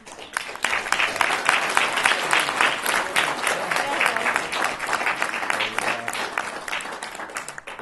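Wedding reception guests break into sustained applause, a dense steady clapping from a crowd that holds at an even level for several seconds with no talk heard over it.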